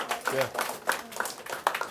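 Audience clapping, a quick series of sharp claps in an uneven rhythm, moderately close, with voices mixed in among them.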